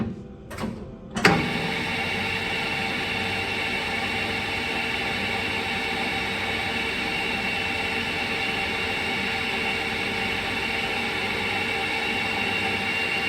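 A centre lathe motor switches on after a couple of faint clunks, then settles into a steady, dense mechanical hum and whine that runs unchanged to the end, with no talk.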